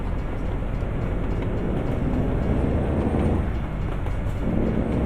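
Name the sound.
train approaching in American Truck Simulator video game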